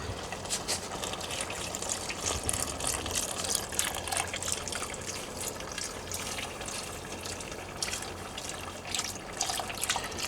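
Bone broth is poured into a pot of pasta in a continuous, even gushing stream that lasts the whole time at a moderate level, with no talking.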